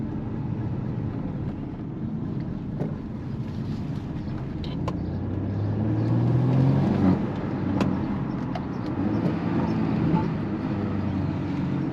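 A BMW 235i Gran Coupé with a 306 hp four-cylinder engine gives a steady low exhaust drone from inside, swelling midway as the engine revs, with road and wind noise underneath.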